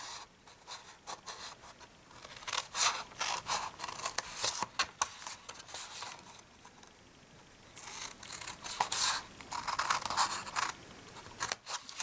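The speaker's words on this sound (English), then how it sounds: "So let's start cutting up." Scissors snipping through card while shaping a handmade gift box for a nail care kit, a steady run of close crisp cuts and scrapes with short pauses between strokes.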